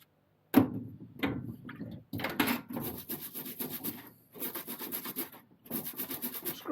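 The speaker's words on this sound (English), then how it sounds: "Scrub, scrub, scrub." Bicycle parts being scrubbed by hand, heard as bursts of rough rubbing and scratching that start and stop, close up and fairly quiet.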